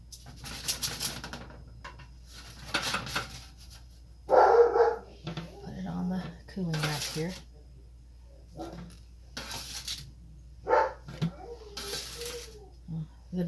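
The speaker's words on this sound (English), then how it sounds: "The dogs want some airtime, I guess." Dogs bark indoors in a home kitchen, with several sharp barks in separate bursts mixed in with people talking nearby.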